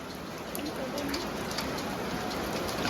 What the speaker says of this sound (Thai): ฝนตกครับบรรยากาศ